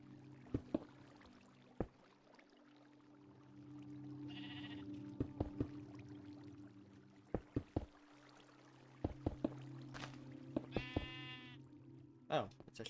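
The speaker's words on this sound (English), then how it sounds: "Oh, it's a sheep." Sheep bleating in a video game, several short bleats spread among soft ambient tones and sharp knocking clicks, with quiet talk over it.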